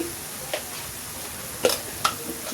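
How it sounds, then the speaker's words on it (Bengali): Ginger and spices sautéing in a pan for a prawn malai curry give a continuous close sizzle, broken by a few quick spatula scrapes and taps. "এটাকে আমি ভালো করে ভুনে নিই যাতে আদার গন্ধটা চলে যায়।"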